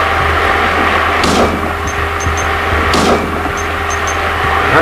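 Gunfire in the horror game Silent Hill 2: two sharp broadband shots about two seconds apart, each followed by faint high metallic clicks, set against a steady low droning ambience with no talk.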